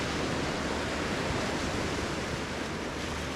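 Tropical ocean surf on the shore at São Tomé, a steady, dense wash of breaking waves that runs the whole time without pause, fairly close and even in level, with no voices.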